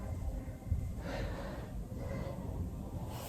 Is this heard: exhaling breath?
yes